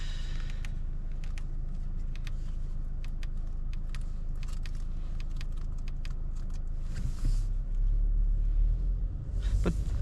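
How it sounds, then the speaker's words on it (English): A 2025 Audi A3 driving, its engine and road noise a steady low rumble with light interior clicks and rattles, swelling briefly louder near the end. "the engine noise is just not that bad"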